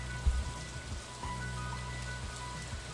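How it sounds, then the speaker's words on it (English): Steady rain falls in the farming game Stardew Valley, a soft continuous hiss of drops with a low rumble underneath, moderately quiet and unbroken throughout, with no voices. "Because the ground will be already wet from the rain."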